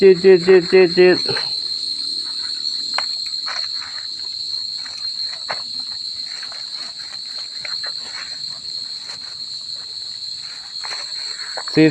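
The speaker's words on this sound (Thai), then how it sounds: "จิ้งหรีดร้องจิด" Crickets chirp at night in a high, steady, continuous trill, joined by scattered faint clicks and rustles, after a brief burst of voice at the start.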